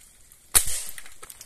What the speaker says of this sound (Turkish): Elimde havalı tüfeğimle beraber hoparlörü vuracağım.